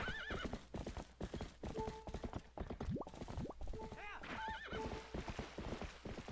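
Epona, the horse in Twilight Princess, gallops with steady rapid clip-clop hoofbeats, broken by several whinnies and neighs over continuous game background sound.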